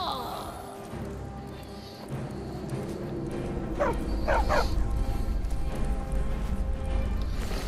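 A dog in a video game gives a few short yips and whimpers in quick succession midway through, heard over a steady background of game ambience.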